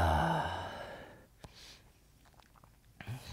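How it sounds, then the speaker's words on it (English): A slow, controlled exhale during a vinyasa yoga flow class, a soft breathy rush that fades over about a second, followed by near silence with a couple of faint clicks. "exhale,"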